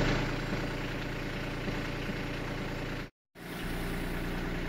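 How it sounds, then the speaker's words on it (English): A tractor engine idles with a loud, steady, throbbing rumble close by, briefly cutting to silence before the chugging drone returns. "I don't know if you can hear me over the tractor"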